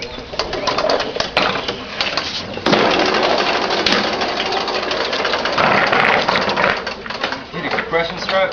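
A freshly tuned-up lawnmower engine catches and runs with a steady, rough, knocking drone, close and loud, with pigeons cooing and a voice heard in the background.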